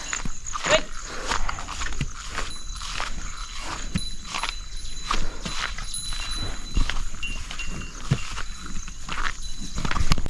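Buffaloes herded down toward the fields, their hooves producing an irregular run of soft thuds and scuffs on the ground, with a person calling out now and then over the steady outdoor background.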